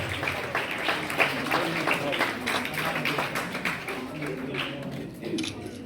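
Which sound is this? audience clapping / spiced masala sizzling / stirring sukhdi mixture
audience clapping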